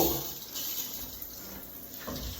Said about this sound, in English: All right, here's the cold water, let's go.